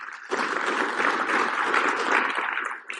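A church congregation breaks into applause for a newly introduced visitor, a sustained wash of many hands clapping that swells quickly and fades out at the end.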